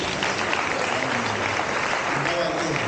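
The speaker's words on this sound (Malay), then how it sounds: "Sekali lagi tepukan untuk Cikgu Kelly" An audience claps for a teacher at a school prefect installation and SPM excellence ceremony. The applause is dense, steady and fairly loud, filling the whole stretch without a break.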